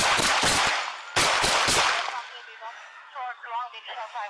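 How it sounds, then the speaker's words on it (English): Police shootout gunfire in South Los Angeles, recorded on an officer's body camera: two loud, close bursts of rapid shots about a second apart, then fading into quieter trailing sounds and a faint voice. "One moment he's running, the next, Duff turns to him and opens fire."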